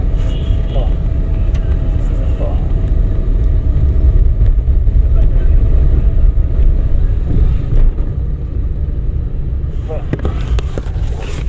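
A driving school car pulls away with a steady engine rumble, close and continuous, while an instructor talks over it.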